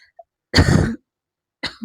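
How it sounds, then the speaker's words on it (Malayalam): A woman clears her throat and coughs twice indoors, two short close bursts separated by silence. "ചുമയും വരുന്നുണ്ട് എനിക്കിപ്പോൾ നല്ല ചുമയുണ്ട് കേട്ടോ"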